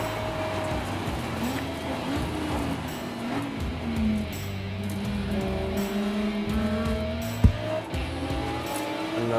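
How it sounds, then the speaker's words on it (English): A Porsche race car drives past on a racetrack, a steady engine drone with the pitch slowly dropping as it goes by. Other cars hum around it at a moderate distance. "got another one, Porsche coming by"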